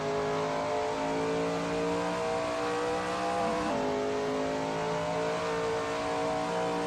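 A Shelby Mustang GT350R race car in a racing video game at the Barbagallo circuit, its engine holding a loud, steady high-revving drone with a brief shift in pitch midway, alone without talk.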